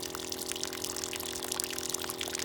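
Steady rushing flow as clean water is flushed through a Sprayers Plus battery sprayer, a continuous hissing splash with a faint motor hum underneath, close and unbroken.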